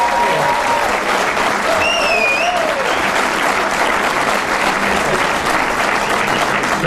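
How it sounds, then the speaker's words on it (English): An audience at a billiards trick-shot show applauds, with sustained, dense clapping that stays steady and close throughout, with brief whistles or cheers near the start. "Applause for this little girl here, come on!"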